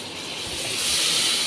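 A steady, broad sizzling hiss of chicken frying in a pan, close and fairly loud, growing slightly stronger partway through with no voices.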